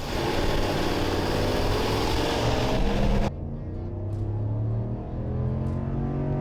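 A Ram 1500 with the 5.7L HEMI V8, in 4-wheel drive and tow haul mode, pulls an 8,000 lb load from a standstill at full throttle, its engine roaring loudly and steadily throughout, with a sharp shift in tone partway through.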